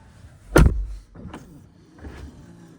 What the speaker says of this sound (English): And then you close the door.